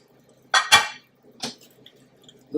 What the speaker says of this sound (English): let's open up this pot